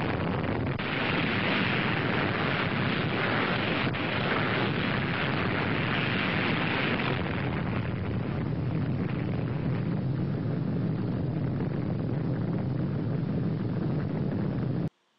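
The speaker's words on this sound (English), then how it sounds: "you saw the 1946 demonstration of the atomic bomb being blown up" Archival 1946 atomic bomb test explosion, a sustained loud roaring rumble that fills the whole clip, heaviest in the first half and easing slightly before cutting off abruptly.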